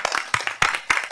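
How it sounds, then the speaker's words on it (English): A small group at a council meeting applauding the chair, a few sparse, uneven claps close by with gaps between bursts, brief and loose. "could we please have a round of applause for our wonderful chair"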